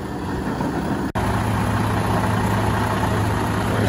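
A logging truck's engine idling near the Coquihalla highway at dawn, a steady low diesel rumble with a constant droning hum, briefly interrupted by a short dropout.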